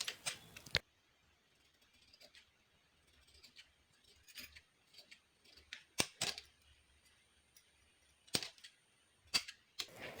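Scissors cutting blouse fabric for a katori blouse, giving quiet, close snips and crisp clicking blade closes at irregular intervals against a hushed background.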